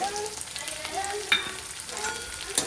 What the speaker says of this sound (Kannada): ಅದನ್ನು ಚೆನ್ನಾಗಿ ಸ್ಲೋ ಫ್ಲೇಮಲ್ಲಿಟ್ಟು ಒಂದು 5 ನಿಮಿಷ ಇದನ್ನು ಚೆನ್ನಾಗಿ ಎಣ್ಣೆಗೆ ಬೇಯಿಸ್ಕೋಬೇಕ್ರಿ ಈರುಳ್ಳಿನ